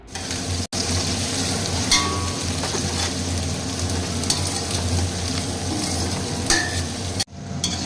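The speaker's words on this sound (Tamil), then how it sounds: "இது வந்து நல்ல ஒரு கோல்டன் ப்ரௌன் கலரில் நல்லா வதங்கி வரணும்" Onions frying toward golden brown for chicken biryani, a loud, continuous close sizzle with occasional spoon scrapes and clinks against the pan.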